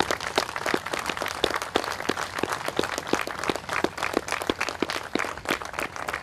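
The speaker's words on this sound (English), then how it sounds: "join me in a round of applause and thanks to them" Sustained applause from a sizable crowd at a Memorial Day parade, dense rapid clapping that holds steady throughout with no voices on top.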